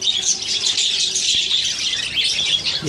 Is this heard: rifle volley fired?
no